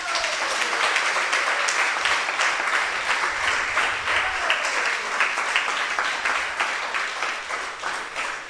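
A hall audience at a round-table event applauds Jocelyn Anglomar, dense sustained clapping from many hands at a steady level, with a faint voice briefly audible underneath.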